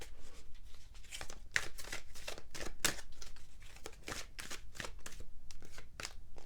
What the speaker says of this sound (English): Let's shuffle and draw another oracle card for you from a different deck